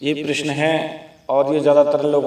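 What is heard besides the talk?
No distinct noise like a dog, phone or traffic.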